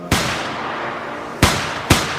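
Three sharp, loud gunshots ring out in a Hong Kong noir film scene set in a building lobby, one alone then a close pair about half a second apart, with quiet room tone between.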